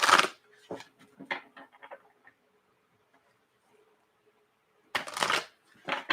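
Tarot cards being shuffled and pulled, a few short papery riffles and flicks close by, separated by near silence with a faint hum, then two louder bursts of shuffling toward the end.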